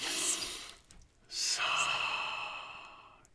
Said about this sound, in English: Take a breath there.